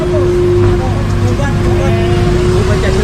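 Steady, continuous roadway rumble of cars passing along a street with no sidewalk, low engine and tire noise filling the background at constant loudness, with faint voices in the mix.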